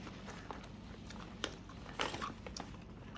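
Korean almond snack being chewed close to the mouth, soft repeated crunches and bites scattered over a few seconds with no talk.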